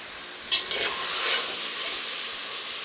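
Vegetables with finely cut green chili, onion and capsicum sautéing in a pan for brinjal pachadi: after a brief clatter, a loud, close, continuous hissing sizzle fills the rest, with no voices.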